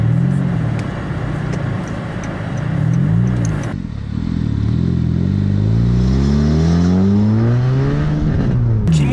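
Honda Fit Hybrid RS engine heard from inside while driving off, a steady hum that rises and falls with acceleration and gear changes, close and continuous with no talking.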